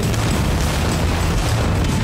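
A loud, dense explosion roar from the animated cartoon The Amazing World of Gumball, filling the whole short stretch with sustained booming rumble and no talk.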